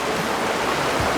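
Mountain river water flowing on the Genie south route in western Sichuan, heard close up as a loud, steady rushing gurgle with no talking.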